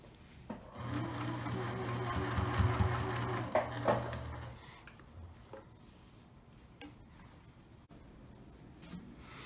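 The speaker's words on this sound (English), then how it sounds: "when you're sewing, make sure that both fabrics are together and not folded" A sewing machine stitches two layers of fabric together for a scrunchie, running in a steady close whir for about four seconds before stopping and leaving quiet room sound.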